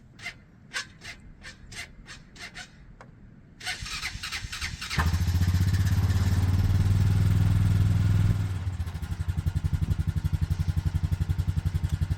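A four-wheeler ATV engine cranks with several short sputtering attempts, catches and roars to a loud steady run, then settles into a rhythmic idle close by, with no talk.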